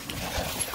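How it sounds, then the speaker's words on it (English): A dog pants on a beach, a soft, rapid breathing that runs steadily through the short moment at close range, with no talk over it. "You need to stay clear of the big dog."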